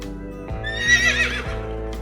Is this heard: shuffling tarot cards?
no